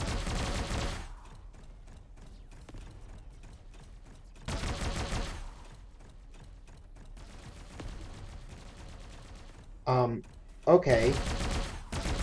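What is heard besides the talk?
combat mortar firing in video game Bot Machines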